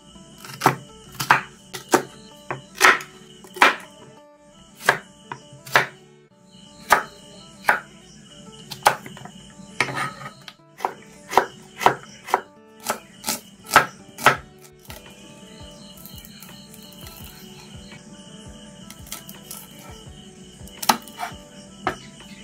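Washed green chillies are chopped with a knife on a board in sharp, regular close taps, some in quick runs, with a pause before the cutting resumes.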